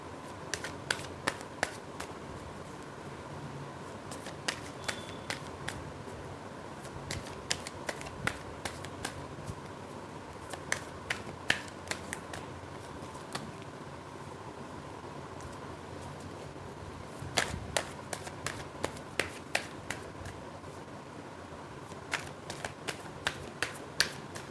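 Tarot cards are shuffled and pulled by hand, giving repeated crisp riffles and sharp snapping card flicks in irregular bursts, close and fairly loud over a quiet room, and nobody speaks.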